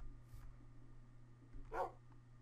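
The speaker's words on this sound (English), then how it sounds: "Okay, he barked." Dog barking in Minecraft: two short, faint barks about a second apart over a low steady hum, with no voices.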